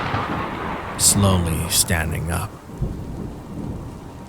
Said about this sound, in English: the sound of thunder roared as flashes of lightning were visible through the cracks within the window blinds